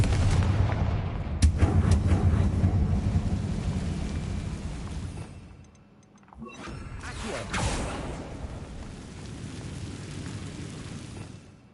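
A Confringo fire spell from Hogwarts Legacy goes off as a heavy rumbling blast with a sharp crack near the start, then a lull and a second burst, over a dense, booming game soundscape.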